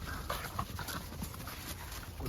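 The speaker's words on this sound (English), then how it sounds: "I got caught in watching these dogs play." American Bully dogs playing in Texas snow, with soft panting, scuffling paws and faint whimpers in a steady, busy wash of noise, no clear barks standing out.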